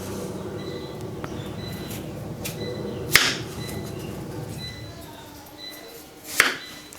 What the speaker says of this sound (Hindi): तो सारे के सारे आलू हम इतने इतने मोटे स्लाइस में काट लेंगे।